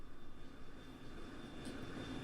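A steady droning hum comes from the engine of a landing Royal Army airship in the Trails in the Sky SC video game, moderately loud and unbroken, swelling slightly partway through with no voices.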